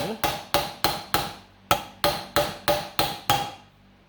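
Eleven sharp, evenly spaced hammer blows drive a bushing into the clutch of a John Deere A tractor, metallic and close, with a brief pause after the fifth strike.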